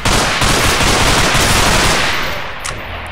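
Dense, rapid automatic gunfire rattles continuously in the video game Underhell, loud and close, fading a little toward the end.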